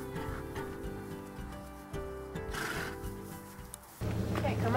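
Miniature horses arrive at a Colorado horse rescue, with whinnies and the clatter of hooves on a hard surface. A voice talks over the animal sounds, which stay fairly faint and mixed with other noise.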